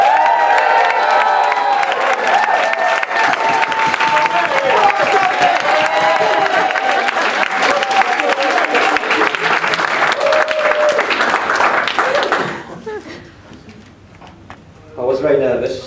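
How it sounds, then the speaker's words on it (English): Wedding guests applaud and cheer as the groom, Jonathan, steps up to give his speech; loud, sustained clapping with whoops and crowd voices that cuts off sharply, leaving a quieter room before a brief final burst. "Let's give him a round of applause."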